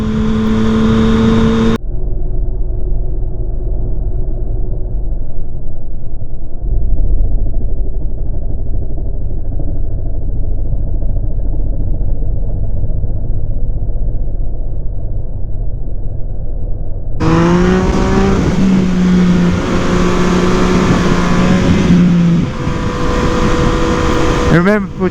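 A Yamaha MT-09 (FZ-09) motorcycle engine drones loudly, muffled for a long stretch as if heard from behind the rider, then opens up into clear revving with rising pitch as the bike accelerates.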